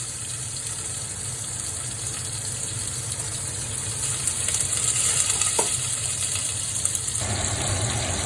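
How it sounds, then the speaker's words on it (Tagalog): Steady oil sizzle of tuna frying in a pan, continuous crackle with a brief clink of a utensil partway through. "Prituhin na natin kaunti yan."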